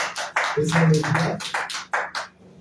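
A crowd claps in applause at a church gathering in Lubumbashi, with loud, uneven bursts of hand claps close by and no talking.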